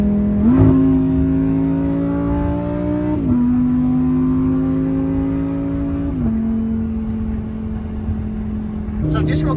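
A Lamborghini Huracan pulling onto a freeway, its engine droning loudly and climbing in pitch through each gear, with three clear upshifts breaking the rising tone and a brief rev at the end.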